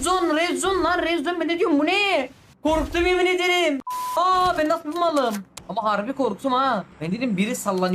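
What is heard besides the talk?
No everyday noise stands out behind the speech.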